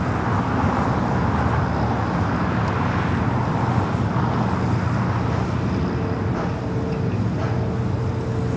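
A Boeing 777 freighter rolls down runway 25 left at LAX on its takeoff run, a loud, steady rumbling engine roar that continues throughout with no voices over it.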